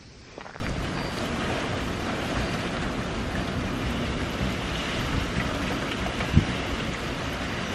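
Steady wind and light rain after a typhoon on a Japanese mountain, a broad continuous rush with wind buffeting the microphone and no voices.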